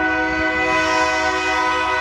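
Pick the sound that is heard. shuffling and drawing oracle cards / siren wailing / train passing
train passing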